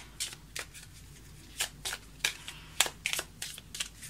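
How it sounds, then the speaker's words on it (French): Tarot cards being cut and shuffled at close range, a series of about ten short crisp riffling bursts spaced unevenly over a quiet background with no talking. "Ok, alors je coupe et je vais tirer les cartes."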